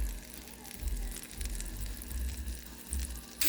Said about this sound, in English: Now I'm going to go ahead and saute this onion a little bit.